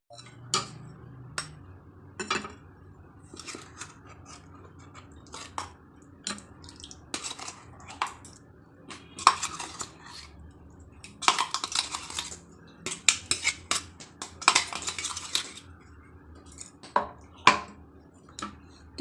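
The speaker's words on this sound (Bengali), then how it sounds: "এই যে এরকম পরিমাণে পেস্টটাকে আমি ওর মধ্যে মিশিয়ে নেবো" A spoon mixing a milk paste into a bowl of ingredients, giving irregular clinks and taps of metal on the dish, some in quick bursts, close and quiet, with no talking.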